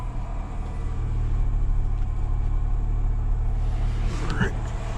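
A Chrysler PT Cruiser engine runs at a steady idle, a continuous low rumble holding close and even throughout, with a brief faint clatter near the end.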